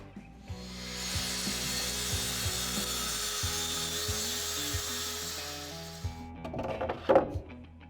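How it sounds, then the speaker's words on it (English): A saw running along parallel guides makes the final 498 mm cut through a plywood sheet. A loud, steady motor whine holds for about five seconds, then winds down into clattering and knocks. "So now I've got the parallel guide set to 498 millimeters to do the final cut of that first piece of plywood"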